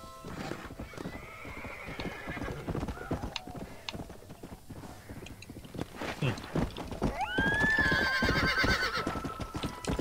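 Hooves clop steadily as a horse is ridden in the video game Red Dead Redemption, with a loud whinny near the end; a voice speaks briefly.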